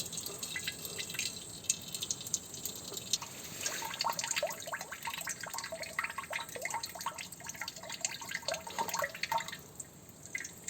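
Clear water trickles and drips from the engine of a Belarus MTZ-52 tractor under restoration, a faint, continuous patter of droplets with a thin steady flow and no talking.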